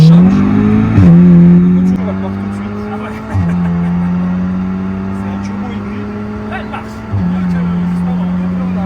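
A hybrid-turbo Stage 3 Audi S3 8V (505 hp) engine roars under hard acceleration, its tone rising steadily through the revs before dropping sharply at each gear change, loud and close.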